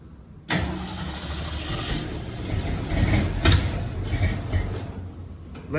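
A 1966 Ford Mustang, low on fuel, cranks and catches, then runs roughly at close range with a loud, wavering engine roar, followed by a short burst near the end.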